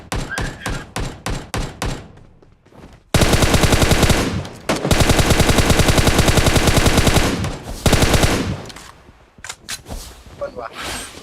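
Rapid automatic gunfire from a PUBG Mobile match, with bursts of sharp shots at the start, then long sustained loud volleys. A voice speaks over the shooting.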